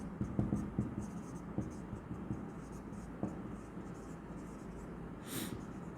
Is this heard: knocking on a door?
no